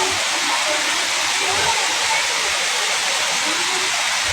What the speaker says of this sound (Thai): ถามว่าน้ำตก สวยไหมก็สวยนะครับ